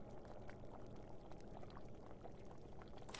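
Water pours steadily into a large pot in a video game, a continuous gurgling, splashing flow at even strength throughout, with no talking over it.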